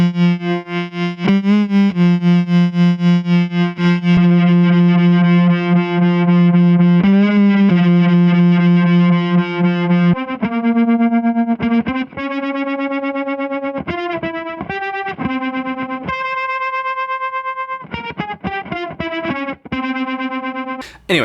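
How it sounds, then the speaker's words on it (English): An electric guitar played through a fuzz pedal, loud and heavily distorted, with sustained saturated notes and chords followed by a run of shorter, shifting single notes and a few quick choppy stabs. "let's hear what this sounds like with a fuzz pedal instead of an overdrive"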